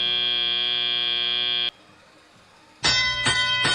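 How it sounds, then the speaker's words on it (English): A loud electronic buzzer blares to start the teleop period at a robotics competition event, holding a steady tone for over a second, dropping away to near quiet, then sounding again in pulsing bursts. "And that buzzer means it's time to clock into work."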